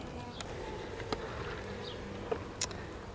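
Honeybees buzz softly around an opened beehive with a honey super on top as a frame is lifted out, a low steady hum with a few brief knocks and scrapes.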